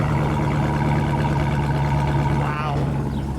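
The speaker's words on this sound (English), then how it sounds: "I want to get a little exhaust note." A deep, steady idling rumble from a 2015 Dodge Challenger SRT Hellcat engine and exhaust, loud and close, with a brief higher whine near the end.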